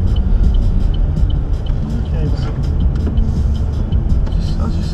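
2018 Vauxhall Corsa E Griffin driving, a steady low engine and road rumble heard from inside the cabin, continuous throughout with people talking over it.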